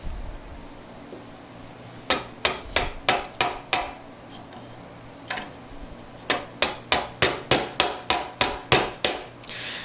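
A hammer drives a chisel to cut a wooden tenon by hand during a workbench build, with sharp, evenly spaced strikes in two runs of rapid blows separated by a short pause, close and loud.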